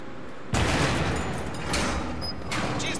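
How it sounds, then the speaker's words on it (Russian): A loud blast in the Battlefield 3 video game, a sudden heavy boom followed by crackling rumble and further sharp bursts, with no talk over it. "Осторожно, взрываю!"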